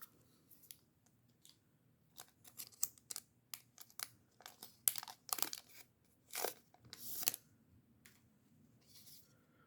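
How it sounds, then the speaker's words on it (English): Kitchen shears slice open a foil Magic: The Gathering Eternal Masters booster pack up close, with soft crisp snips and crinkling wrapper rustles in a quiet room. "These are actually kitchen shears."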